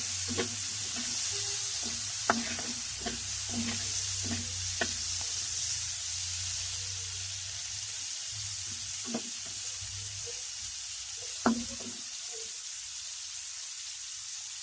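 Shrimp seasoned with salt and turmeric frying in hot oil in a pan, a continuous steady sizzle with occasional sharp knocks and stirring clicks, close and alone.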